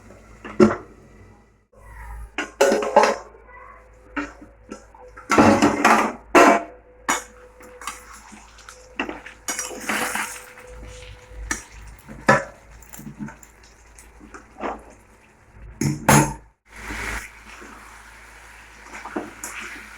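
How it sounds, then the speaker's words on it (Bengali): A plate goes over a pan of spicy fish curry in a home kitchen, with scattered clanks and knocks of metal and crockery and some quiet gaps between them. "তো দিয়ে দেবো একটা থালা দিয়ে ঢাকা।"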